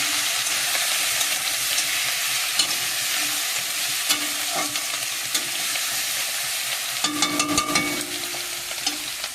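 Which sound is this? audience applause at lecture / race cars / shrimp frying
shrimp frying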